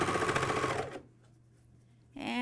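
MyLock 454D serger stitching a pajama top, a close, fast whirring burst that cuts off for about a second of near silence before starting up again.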